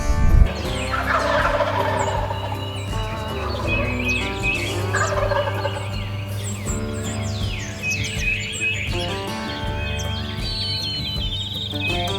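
Wild turkeys gobble at the edge of a field, several loud, repeated gobbles overlapping one another, with chirping songbirds throughout and no talking.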